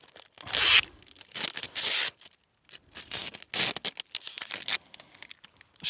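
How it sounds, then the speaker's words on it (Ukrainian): Adhesive tape ripped off the roll in several loud, crackling bursts and pulled tight around a detonator and detonating cord on a TNT block, close and alone with short pauses between pulls. "щільно зафіксовуємо скотчем"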